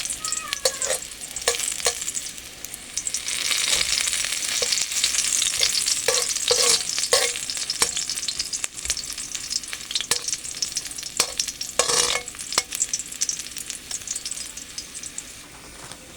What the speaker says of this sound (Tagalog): The usual na ginagawa natin sa bawang. Siyempre medyo brown-brown.